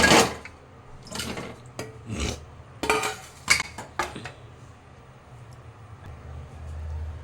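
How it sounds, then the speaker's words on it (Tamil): Chopped potato pieces are dropped into a pressure cooker in a home kitchen, making a series of close, scattered knocks and scraping rattles against the metal that thin out toward the end. "அதுக்கு ரெண்டு உருளைக்கிழங்கு அரிஞ்சு வச்சுருக்கோம் இதை இது குக்கரில் சேர்க்கணும்"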